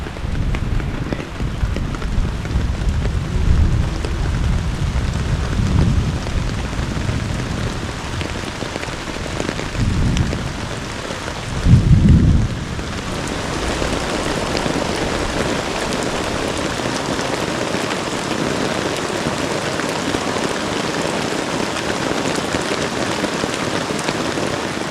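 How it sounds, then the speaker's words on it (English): A thunderstorm at a Boundary Waters campsite, with steady, close rain pattering on surfaces throughout and deep rumbling bursts early on and again near the middle, and no one speaking. "we head back to camp where we ride out another thunderstorm"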